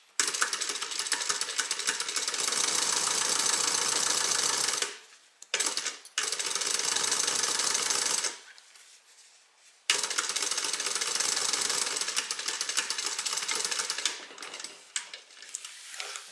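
Sewing machine stitching a half-inch seam on a fabric bag, running in steady rapid bursts: a long run, a short stop-start, another long run, then a final stretch, with quiet pauses between.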